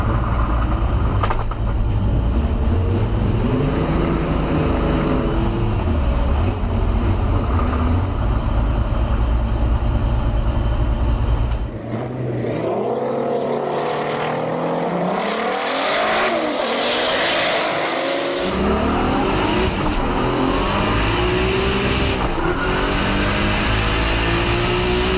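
A twin-engine drag race car idles and revs on only its front motor, a loud close mechanical drone that drops off and then climbs back with rising whine and roar, running continuously without speech.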